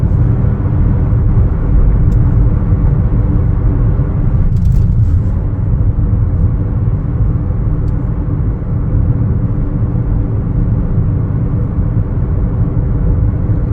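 2025 Chevrolet Trax 1LT compact SUV driving on the road, heard from inside the cabin as a steady, loud low rumble of engine and road noise with no talking.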